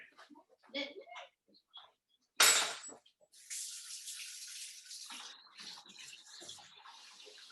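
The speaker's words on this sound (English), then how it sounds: "We're going to wash up again." Tap water runs steadily into a sink for hand washing in a kitchen during a cooking demonstration, starting with a sharp splash and continuing as a hissing stream after some brief clatter and faint voices.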